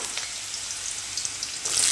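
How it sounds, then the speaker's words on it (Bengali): Cut potato pieces fry in hot oil in a wok, a steady bright sizzle with crackling spatters that swells louder at the end, with no talking. "কেটে রাখা আলুর টুকরোগুলো, তেলের মধ্যে দিয়ে দিলাম।"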